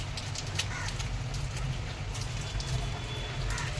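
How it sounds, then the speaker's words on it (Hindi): Heavy monsoon rain pours down steadily outside a home during Sawan, a dense continuous hiss and patter on surfaces with scattered louder drips. "अब इतनी तेज बारिश हो रही है"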